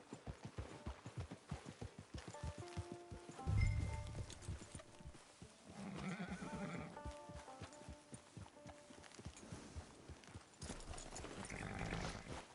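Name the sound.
horse hooves walking, video game Red Dead Online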